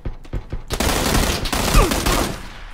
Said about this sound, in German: Dreifachschuss